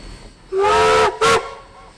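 A steam locomotive on a Waikato Steam Wanderer excursion from Glenbrook Station gives a loud whistle blast followed by a second shorter toot, with a hissing rush of steam, close and dominant.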